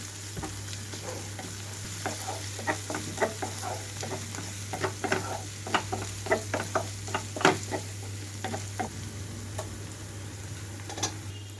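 Onions with ginger-garlic paste fry in a pan under a constant soft sizzle, broken by a loose series of spatula scrapes and taps, with a low steady hum behind and no voices.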